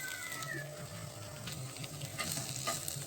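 Shidol paste with added salt frying in a pan while being stirred, a faint soft sizzle broken by light scraping strokes of the spoon, close by, with no speech.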